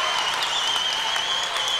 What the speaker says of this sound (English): The crowd making some noise.